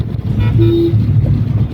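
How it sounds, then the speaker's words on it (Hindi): A short car horn toot sounds close by over the low hum of a vehicle engine and road noise, on a Kolkata flyover at night. "हॉर्न दीजिए।"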